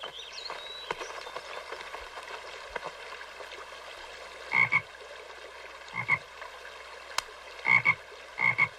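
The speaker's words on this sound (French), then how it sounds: "j'ai vu des grenouilles dans le ruisseau" Frogs croak in a cartoon stream setting, several short, sharp croaks arriving in a loose irregular rhythm over a quiet watery background.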